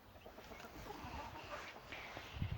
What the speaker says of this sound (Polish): Mam dwa koguty i jedną kurkę.